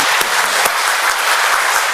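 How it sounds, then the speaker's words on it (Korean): A church congregation applauds together during a worship service, a dense, steady clapping that fills the room without a break. "또 수고한 성가대원들 포함해서 한번 하나님께 영광의 박수를"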